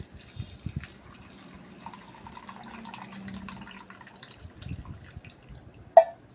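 Herbal avaram flower extract water strained off and set aside while making a facial paste, with soft dripping and trickling of liquid throughout and a brief sharp clink near the end.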